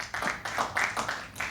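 An audience applauds briefly at a live poetry open mic, a short burst of dense, fairly close hand clapping from a small crowd.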